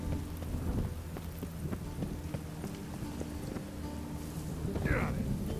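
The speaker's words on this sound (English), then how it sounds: "I like rain." Steady rain hisses on the ground in the video game The Witcher 3 while a low thunder rumble rolls underneath, with scattered knocks and a brief rising tone near the end.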